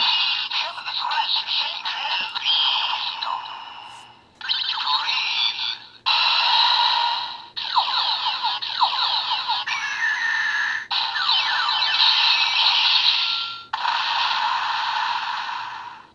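DX WizarSwordGun toy firing a beast-ring attack effect: loud electronic toy speaker bursts of whirring, scraping and chiming tones in several segments separated by brief pauses, alone.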